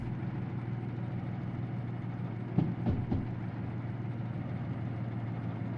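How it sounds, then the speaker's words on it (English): A locomotive diesel engine idles in the Derail Valley train game, a steady low droning hum heard from the cab with a brief knock partway through. "it's quite an advantage to be able to hear the engine noise and revolutions"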